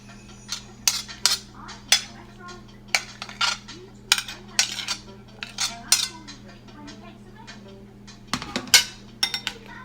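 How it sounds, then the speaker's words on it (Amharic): Fruit salad being stirred together with juice and flower water in a bowl, giving repeated sharp clinks and scrapes of a utensil against the dish in an irregular rhythm, close and fairly loud, with no talking. "ከጨመርን በኋላ እንግዲህ እናዋህደዋለን ከጁሱና ከአበባ ውሃ ጋር በደንብ እንዲብላላ በደንብ አዋህደን መደባለቅ ማለት ነው።"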